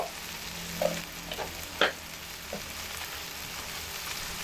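Egg curry masala frying in a pan with turmeric and spices gives a steady, moderate sizzle, broken by a few distinct clinks and scrapes as it is stirred.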